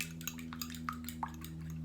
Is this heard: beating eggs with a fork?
yes